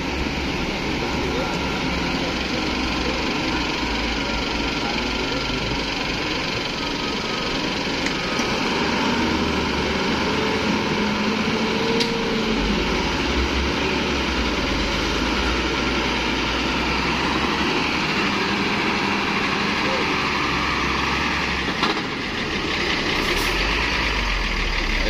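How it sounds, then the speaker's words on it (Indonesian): Tanker truck driving along a deep, rough road, its engine a steady, loud rumble with broad road noise running throughout, a brief hiss near the end. "Lanjut, truk tangki bosku."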